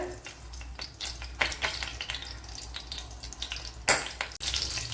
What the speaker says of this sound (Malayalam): ഇവിടെ ഒരു ടേബിൾ സ്പൂൺ വെളിച്ചെണ്ണ ഒഴിച്ചു കൊടുത്തിട്ടുണ്ട് അതുപോലെ ഒരു ടീസ്പൂൺ കടുക് ഇട്ട് കൊടുത്തിട്ടുണ്ട്